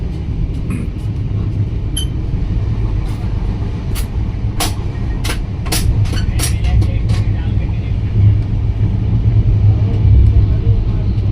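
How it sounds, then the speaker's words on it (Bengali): A train carries on at speed across Hirakud Dam toward Howrah, a steady low rumble of rolling wheels with clicks and rattles through the run; no one speaks, though a voice may sit under the noise. "হীরাকুন্ড ড্যাম পার হয়ে আমাদের ট্রেন বিদ্যুৎ গতিতে হাওড়ার দিকে এগিয়ে যাচ্ছে"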